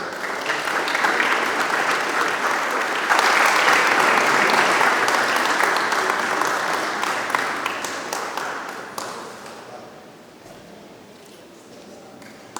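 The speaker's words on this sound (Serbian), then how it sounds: "Vas molim da ih pozdravimo jednim aplauzom." An audience at a village award ceremony applauds in a sustained burst of dense clapping that swells, holds for several seconds, then gradually thins and fades out.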